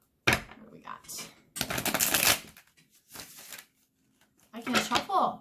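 A deck of cards being shuffled in several quick riffling bursts separated by short pauses, close and fairly loud, with no talk over them.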